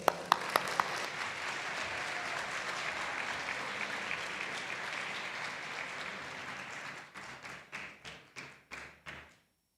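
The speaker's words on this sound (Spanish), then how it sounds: "Este es el aplauso para vos." An audience applauds after a singing audition, sustained crowd clapping at moderate distance that tapers into a handful of separate, spaced claps before stopping.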